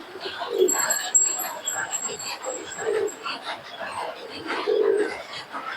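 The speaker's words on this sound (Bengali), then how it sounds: "সব পায়রাগুলো আবার তোমাদেরকে ছেড়ে দেখাচ্ছে" Pigeons being released at a pigeon sale in Shantipur give soft, repeated low cooing calls nearby, with faint bird chirps and background murmur.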